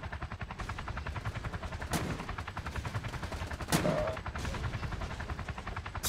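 .50 calibre machine gun fire in the Roblox game Polybattle hammers out in a fast, steady rhythmic stream, with a couple of sharper impacts cutting through the constant rattle.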